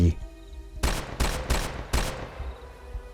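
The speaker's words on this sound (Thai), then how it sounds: "เสียงปืนที่ยิงชนิดไม่นับนัด" Four sharp rapid gunshots crack in quick succession in a forest after a brief low rumble, then echo away into quiet.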